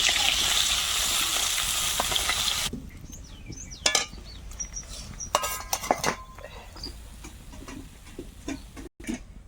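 Kitchen utensils clink and scrape against a pan while lifting out fried koi fish, a few sharp close metallic taps and clatters following a burst of loud sizzling frying oil.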